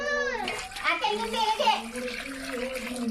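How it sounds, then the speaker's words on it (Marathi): Water pouring into a cooking pot for crab curry, a splashing stream with a rising tone as the vessel fills, close, with a voice talking over it. "तर आता याच्यामध्ये टाकते पाणी"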